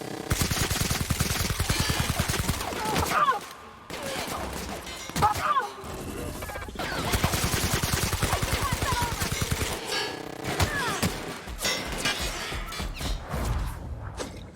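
Gunfire in The Outer Worlds comes as rapid automatic bursts and sharp single shots, loud and close, with impact crashes and brief pauses between volleys.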